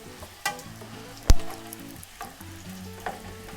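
Food sizzling and frying in a pan, a steady crackling hiss with occasional sharp clanks of a utensil.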